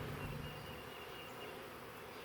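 Honey bees buzz around hives during a package installation, a steady, dense drone that holds evenly from start to finish without any voices.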